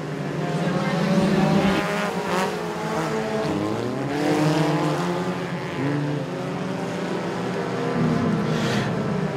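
Compact race cars roar off at the green flag of a heat race at Moler Raceway Park, a pack of engines revving and climbing in pitch, loud and sustained, with a voice faintly underneath.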